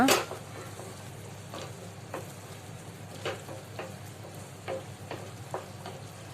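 Paneer masala sizzling and frying in an oil-filled pan, a steady soft crackle with occasional sharper pops and stirring scrapes, close and moderately quiet, with no voices.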